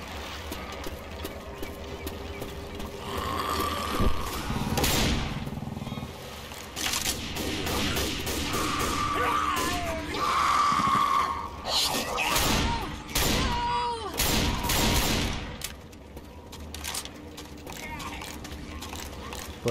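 Shotgun blasts fire in the video game Left 4 Dead. Several sharp, widely spaced shots ring out over game noise, with someone talking throughout.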